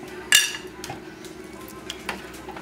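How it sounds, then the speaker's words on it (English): A metal lid clanks down onto a pot of beef chili at the stove in one sharp, close clink, followed by faint, scattered kitchen clatter. "I'll put a lid on it."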